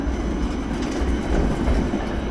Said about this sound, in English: And the main public transport here is trams.